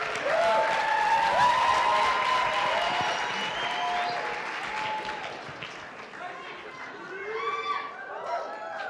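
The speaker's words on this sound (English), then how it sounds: "Let's get a round of applause." Audience applause for a dancing couple at a faculty dance competition, a dense steady clapping crowd that tapers slightly, with voices and a few cheers mixed in toward the end.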